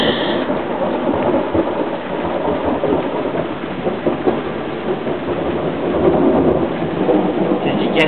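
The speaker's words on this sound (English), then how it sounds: "It's raining." Heavy rain pours steadily in a storm while low thunder rumbles and rolls continuously beneath it, loud and close, with no clear voices over the downpour.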